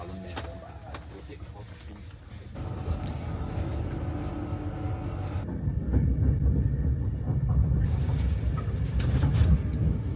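Steady rumble and rattle of a train in motion to Liverpool, heard from inside a carriage, with people talking over the noise.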